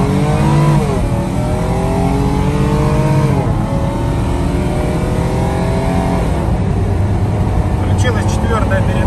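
A Nissan Terrano WD21 with a VQ35DE V6 pulls away in drive, its close, loud engine note rising and dropping through gear shifts in a continuous drone, with a voice faintly mixed in.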